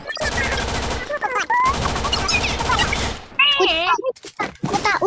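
Bursts of gunfire in a video game ring out loudly across the first three seconds, mixed with excited talking and shouting from players.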